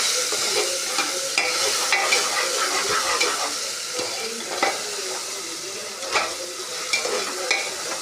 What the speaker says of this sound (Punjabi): ਹੁਣ ਮੈਂ ਲੱਗੀ ਆ ਤੜਕਾ ਲਾਉਣ